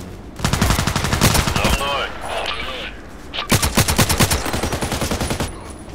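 A KelTec RFB carbine fires in Contract Wars on the Site map, with a rapid burst of loud shots, a short pause, then another steady run of closely spaced shots.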